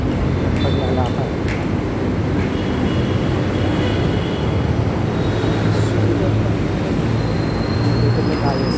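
Rail station ambience at the foot of the LRT stairs in Masinag, Antipolo: a steady low rumble of trains and street traffic, constant and fairly loud, with voices talking nearby.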